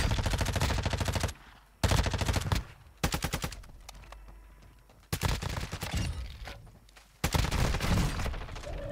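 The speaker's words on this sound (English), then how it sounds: "This shotgun is ruining Warzone." Bursts of shotgun fire in the Warzone video game, loud close blasts fired in rapid clusters separated by brief quieter gaps.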